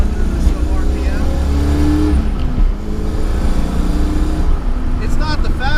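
A Fox-body Ford Mustang with headers and an aftermarket cam, engine droning steadily in the mid-rev range while driving a canyon road, heard from inside with voices over it.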